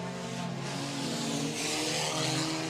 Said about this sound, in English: Green flag is out. We're racing with heat number 2.